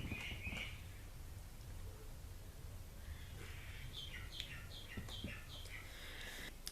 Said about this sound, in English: There's a bird going on crazy over there.